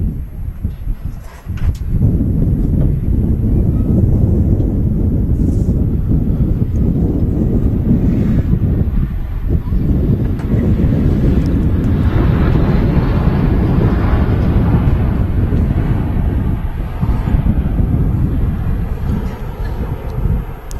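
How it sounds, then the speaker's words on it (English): An EasyJet Airbus A320 airliner arriving at Manchester Airport, its low engine roar heard through heavy wind buffeting on the microphone, steady and loud for the whole stretch. "Next in is an EasyJet A320."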